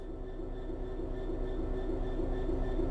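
A train starting off under throttle in the Train Sim World 3 video game, giving a steady low rumble with a faint tonal hum that builds slightly over a few seconds, with no other sound on top.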